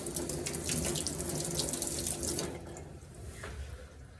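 Running tap water rinses a whiting paste off a metal etching plate in a sink, a steady splashing stream that softens partway through.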